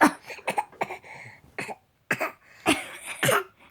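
An eight-month-old baby imitates an adult's cough, making a series of short, close, throaty coughs and throat-clearing bursts separated by brief pauses.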